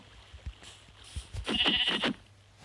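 Sheep bleating in the Minecraft video game, a few short game-audio bleats followed by a louder, wavering bleat that stands clearly alone.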